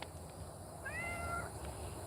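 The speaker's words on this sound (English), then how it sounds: "I don't know whose cat that is." A cat indoors lets out a single short, quiet meow partway through, over a faint background hum of the room, with nobody talking.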